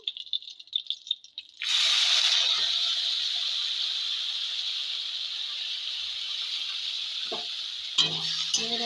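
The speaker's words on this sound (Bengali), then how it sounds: "আগে করে কুচিয়ে রাখা পেঁয়াজ কিছু পেঁয়াজ দিয়ে দেবো" Chopped onions for a cauliflower curry hit hot oil with a sudden loud sizzle after a short rattling start, then settle into a steady hiss with a few spoon knocks near the end.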